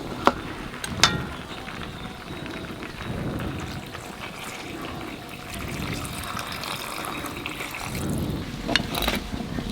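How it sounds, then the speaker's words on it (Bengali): Water is poured into a simmering Bengali mutton curry, with a bubbling, splashing pour and gentle liquid trickles, fairly close and moderate in level, and faint voices in the background. "জলটা একটু বেশি শুকিয়ে গেছে, সেজন্য তার একটু জল দিয়ে দেবো।"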